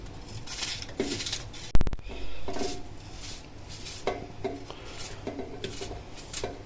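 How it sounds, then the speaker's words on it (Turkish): A knife taps repeatedly on a cutting board, chopping a medium onion in quick, uneven strokes, with one sharp clatter partway through. "Soğanımız doğranıyor gördüğünüz gibi."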